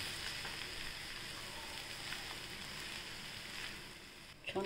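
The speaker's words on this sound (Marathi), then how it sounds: "या छान परतून घेऊया आपण" Leftover rice with garlic and chaat masala being sautéed in a pan, a soft continuous sizzle with faint stirring scrapes, quiet and close, ending in a few clattering knocks.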